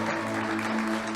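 A church congregation applauds, a brief burst of steady, even clapping over a low hum.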